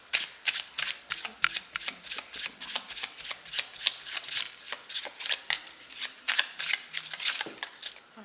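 Tarot cards are shuffled by hand in quick, crisp riffling bursts, about two or three a second, near and fairly quiet with no talk over them.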